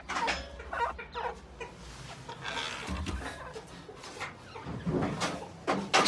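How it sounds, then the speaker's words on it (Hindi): A hen sitting on her eggs clucks and grumbles in a series of soft, irregular calls, fairly close and quiet, with some background rustle and no clear talk. "ये उबैद भाई की मुर्गी अंडों में बैठ गई"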